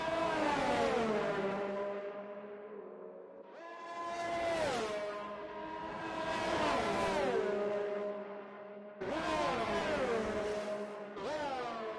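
F2 race car in a racing video game, its engine revving up hard out of a corner in repeated rising sweeps with brief drops at gear shifts, loud and close with no talk.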